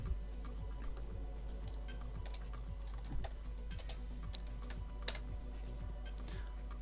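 Rapid typing on a computer keyboard while playing the hacking game Hacknet: a steady stream of close, crisp key clicks with irregular rhythm and a few louder keystrokes, heard alone without talk.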